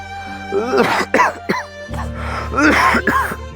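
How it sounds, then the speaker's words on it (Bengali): A person coughs repeatedly in harsh bursts, with a short pause and then more coughing and throat noise, close by, over a low steady hum. "কাশতেছো কেন"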